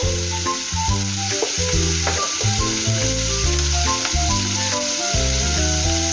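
Sotanghon glass noodles and sautéed ingredients sizzle steadily in a hot pan, a constant frying hiss running beneath loud background music.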